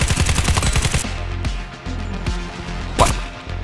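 Rapid automatic gunfire from a light support weapon in the War Thunder video game: a fast, loud burst of closely spaced shots, then a quieter stretch with scattered distant bangs and one sharp crack near the end.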